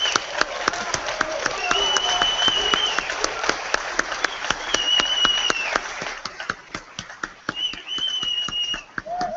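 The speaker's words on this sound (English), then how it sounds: "I think we owe him a tremendous amount of thank you and applause." Audience at an American Legion department convention applauding, brisk steady clapping with sharp individual claps standing out, with some voices and whistle-like tones mixed in.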